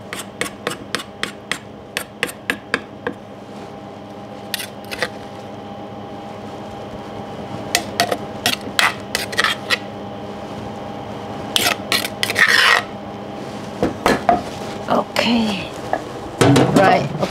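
Garlic is crushed in a kitchen with repeated sharp pounding knocks, coming in quick rhythmic runs and scattered strikes over a steady background hum, while people talk between the blows.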